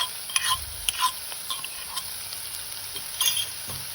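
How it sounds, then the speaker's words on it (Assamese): Food being stirred in a pot while it sizzles, the spoon scraping and knocking against the metal in irregular strokes over a steady frying hiss. "এতিয়া মই এবাৰ লৰাই দিম।"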